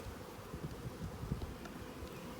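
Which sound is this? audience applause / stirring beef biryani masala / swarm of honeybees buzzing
swarm of honeybees buzzing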